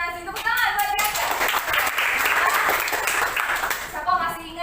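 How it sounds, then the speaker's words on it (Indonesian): Students in an Indonesian classroom clap for their classmates. The dense, loud clapping lasts about three seconds between brief stretches of talk at the start and end. "Tepuk tangan buat mereka."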